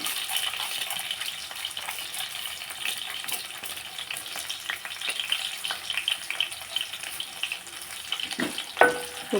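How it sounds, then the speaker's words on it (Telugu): Garlic, chana dal and urad dal fry in hot oil with a continuous crackling sizzle, punctuated by occasional stirring scrapes and a sharp clink near the end. "బాగా వేపుకున్నామండి మినపప్పు కూడా వేసాము"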